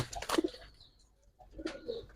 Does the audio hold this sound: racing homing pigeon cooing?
yes